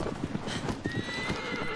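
Horse hooves clip-clop rapidly in Shadow of the Colossus as the horse gallops, a quick rhythmic thudding close by, with a brief whinny and faint talk underneath.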